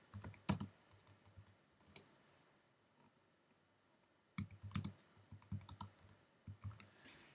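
Keystrokes on a computer keyboard come in two short bursts of quick clicks separated by a quiet stretch, close and fairly soft, with no voices.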